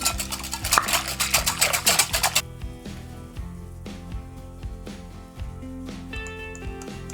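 A whisk beating oil, water, milk and apple vinegar in a bowl for börek dough, a fast rhythmic clatter for a couple of seconds, then softer intermittent strokes under steady background music.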